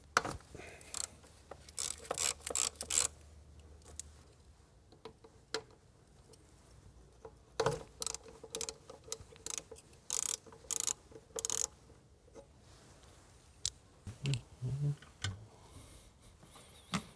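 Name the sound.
ratchet removing 10 millimeter bolts on a 2014 Nissan Maxima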